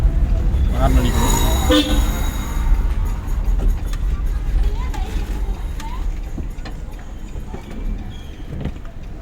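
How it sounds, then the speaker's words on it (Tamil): Car horn honks during a driving lesson in a training car, sounding as short toots over steady engine and road noise, with a voice talking nearby. "ஹார்ன் அடிக்கணும்."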